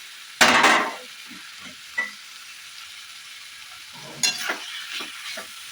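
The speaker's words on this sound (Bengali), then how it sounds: "এবারে সুন্দরভাবে এটাকে কষাবো" Spice masala with goat fat stir-fried in a pan: sharp scraping stirs with short sizzling bursts, one strong stroke early, then quieter intermittent stirring strokes close by.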